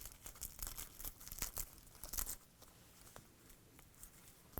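Tissue paper being torn away from freshly stitched seams on handwoven fabric bias strips, a quick run of close, papery ripping and crinkling bursts that stops partway, leaving quiet room tone.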